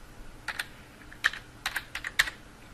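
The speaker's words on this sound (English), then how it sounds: "you can simply click in the search bar type in Paint" A computer keyboard is tapped in a few short, quick bursts of crisp clicks, close and quiet with pauses between groups of keystrokes.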